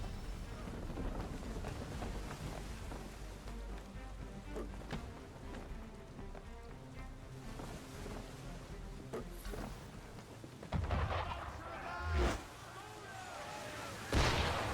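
Ship cannons fire at sea in a video game: heavy booms arrive late, a few loud blasts standing out over a busy, rumbling layer of combat noise and music.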